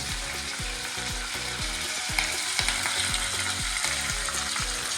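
Curry leaves and green chilies frying in oil with urad and chana dal for vegetable shavige bath, a close, steady crackling sizzle with occasional louder pops and spatters, with a faint repeating mechanical whir beneath it.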